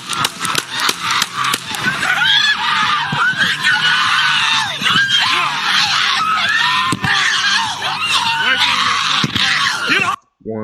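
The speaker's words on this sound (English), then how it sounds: "People are screaming" Several people screaming and wailing at once in a chaotic street scene after a police shooting. The cries are loud and continuous and overlap one another, with shouted voices mixed in until the sound cuts off abruptly near the end.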